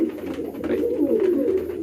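Pigeons cooing up close, a steady low murmuring coo that runs through the whole moment without pause, with no voices heard.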